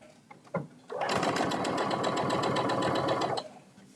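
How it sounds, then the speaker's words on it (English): A sewing machine top-stitches folded fabric tabs in one steady, close, rapid run of about two and a half seconds, with brief handling noises before and after. "we're just going to top stitch on both sides of the folded sides"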